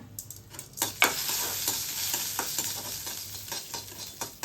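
Chana dal and urad dal roasting in a pan for chutney, a steady dry sizzle with spoon scrapes and rattling lentils throughout, a sharper clatter early on, and no voices.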